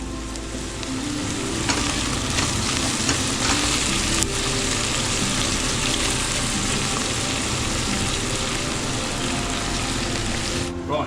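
Onions and a cinnamon stick cook over turned-down heat in a pan for chicken biryani, giving a constant close sizzle and crackle with occasional stirring clatter, continuous and fairly loud.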